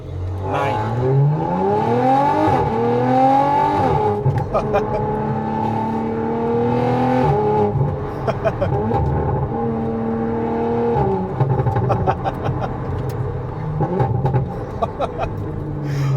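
An Audi RS4 B9 with a loud exhaust, a 331 kW car, revs while driving, engine tone climbing through gears in long sweeping pulls with brief drops between shifts, close and loud throughout.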